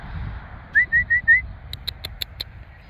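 A handler's short whistle command to a herding dog in a field: four quick, clear rising whistle notes in a row, fairly close, followed by a few faint ticks and low outdoor rumble, no talking.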